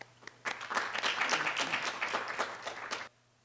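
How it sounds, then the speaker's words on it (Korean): Audience at a policy seminar presentation bursting into applause that begins suddenly, holds as a dense round of clapping for about two and a half seconds, then stops abruptly, fairly faint and without speech. "그러면 여러분들의 큰 박수와 함께 첫 번째 발표 시작하겠습니다."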